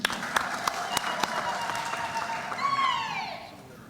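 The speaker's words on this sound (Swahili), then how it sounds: "Makofi kwa SG." Applause from delegates welcoming the secretary general at a NARC-Kenya party convention in a hall, a steady wash of clapping from a crowd with a few sharp claps standing out, rising slightly near the end.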